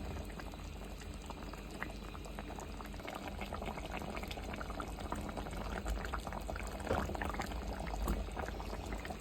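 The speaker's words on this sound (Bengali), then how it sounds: "এই যে আমি দুধ দিয়ে এটা রান্না করে নিচ্ছি।" Chicken roast simmering in milk in a pot, bubbling and burbling steadily with wet pops, close and continuous without pause, growing slightly livelier toward the end.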